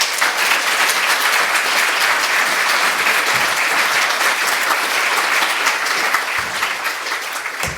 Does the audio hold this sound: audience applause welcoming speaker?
yes